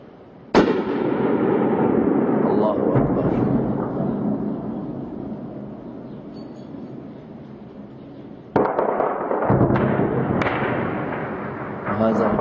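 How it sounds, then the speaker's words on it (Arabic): Artillery fire from 57 mm cannons positioned on mountains shelling a Damascus neighborhood: two heavy booming blasts with long rumbling echoes that slowly fade, loud and outdoors, the second followed by further crackling bursts. "إحدى مدافع 57 متمركزة على الجبال."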